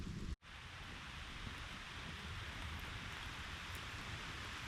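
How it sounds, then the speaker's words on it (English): Rain pours down on an unsheltered outdoor camper, a dense, steady hiss of drops on surfaces that runs unbroken after a brief dropout near the start, with no voices. "It's raining on me."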